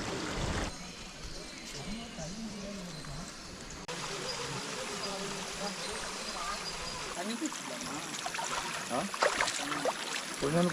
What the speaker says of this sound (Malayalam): ചെറിയ ചെറിയ അരുവികളൊക്കെ നമുക്ക് ഈ സൈഡിൽ കാണാൻ പറ്റും